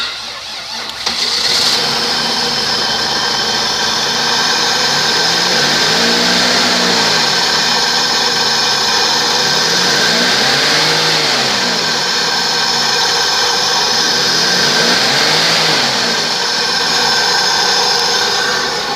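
A 1998 Buick LaSabre with 137,768 miles runs at a steady, loud idle close by, with a continuous engine hum and a few slow swells in pitch like mild revving.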